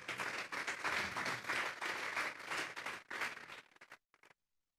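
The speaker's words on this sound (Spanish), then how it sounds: "Den un fuerte aplauso pues al Señor." A church congregation at a Sunday service applauds loudly with dense, sustained clapping that fills the room, then thins out and stops abruptly near the end.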